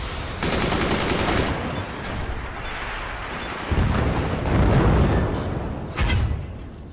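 Mortar and gun fire in the strategy game Forts: a continuous rattle of weapons fire punctuated by heavy booming mortar launches and impacts, loud and close, with a few sharp metallic pings along the way.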